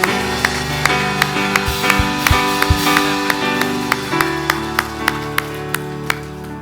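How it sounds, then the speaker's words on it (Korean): A church congregation claps steadily through a Sunday worship service, the sharp beats cutting over sustained keyboard or organ music. "하나님께 영광의 박수 올려드립니다."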